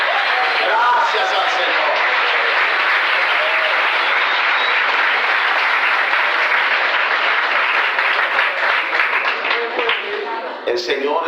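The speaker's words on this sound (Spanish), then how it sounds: "Denle un aplauso al Señor" Loud, sustained applause from a large audience at a regional church conference, a dense wash of clapping that holds steady for about ten seconds before tapering off.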